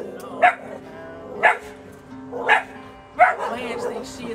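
Several dogs bark from a porch at a dog walking past, four sharp barks spaced about a second apart, fairly close, with a low steady hum underneath.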